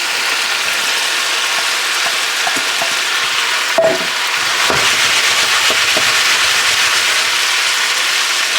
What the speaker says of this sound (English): Now I'm gonna add my onions.